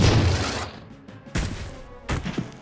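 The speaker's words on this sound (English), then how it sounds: "this experimental version of a rocket rifle is capable of emptying its entire clip in a single devastating burst" An experimental auto rocket rifle in Jagged Alliance 2 fires one heavy, booming burst that decays, then two more sharp blasts follow after short pauses, loud and close.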